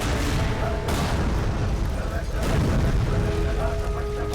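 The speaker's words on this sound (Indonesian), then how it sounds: "Beberapa saat kemudian, pom bensin itu meledak." A gas station blows up in a film scene, giving deep booming blasts and a dense rumbling roar with sharp bursts, loud and sustained throughout.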